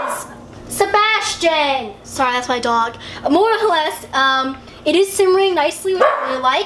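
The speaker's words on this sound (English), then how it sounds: "Sorry, that's my dog." A dog barks several times close by in a home kitchen, the sharp barks mixed with and overlapping a person speaking throughout.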